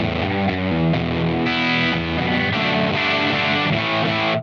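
An electric guitar played through a digital Tweed-style amp simulation rings out with a thick, distorted tone, loud and sustained chords shifting across a few seconds before cutting off, with no voices.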